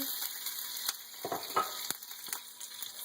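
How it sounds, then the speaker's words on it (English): Soft crackling and sizzling of sweet sausage meat browning in a frying pan, with a few scraping stirs and pops, fairly quiet and close. "Sizzle, sizzle."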